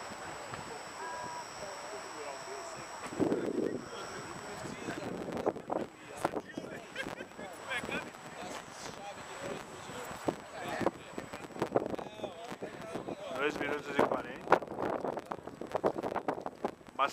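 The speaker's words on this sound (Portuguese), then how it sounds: "Bastante vento." Strong wind buffets a microphone outdoors while a small radio-controlled plane is flown, a steady rushing roar with gusty bursts throughout and a person talking over it.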